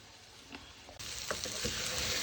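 Aubergine and courgette cook in a pan while being stirred, a faint sizzle that grows louder and fuller partway through, with soft scraping.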